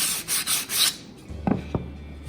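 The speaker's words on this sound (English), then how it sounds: "And keep sanding it until it's nice and smooth" Hand sanding along the edges of a wooden BBQ caddy, a series of close, broad rasping strokes at first, then quieter rubbing with a couple of sharper scrapes.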